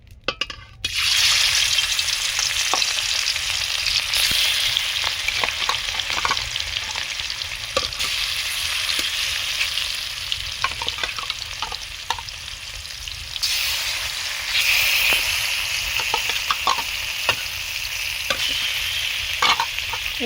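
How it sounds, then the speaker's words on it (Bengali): Rohu fish pieces hit hot oil and fry with a loud, continuous close sizzle, broken by occasional clicks and scrapes of a spatula, with no voices. "তেল গরম হয়ে গেছে, একে একে মাছগুলো ভেজে নেব"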